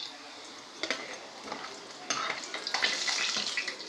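Fish pieces fry in a pan with a soft, steady sizzle. Occasional stirring scrapes and clinks come through, close but fairly quiet.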